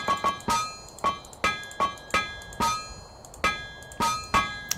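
Repeated metallic hammer strikes on iron ring out in an uneven rhythm, about a dozen sharp clanging hits with bright bell-like overtones, from the TerraFirmaCraft video game, with no talk.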